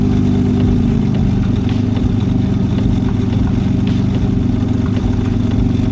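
A car engine idles steadily after an idle screw adjustment on the throttle body, a close, even low rumble with a constant mechanical hum and no revving.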